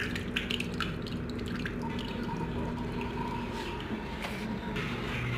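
Drain water from a Haam washing machine with a newly replaced gearbox drips and trickles steadily nearby, with no voices present.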